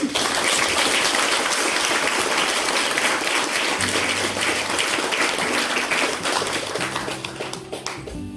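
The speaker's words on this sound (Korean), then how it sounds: "박수로 한번." Sustained applause from a church congregation at an elder's installation ceremony, dense and steady, with a faint tone entering partway through as the clapping begins to fade.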